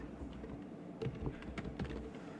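Faint, quiet clicking of a computer keyboard in a school classroom during a lesson, with scattered soft key taps over a low room hum.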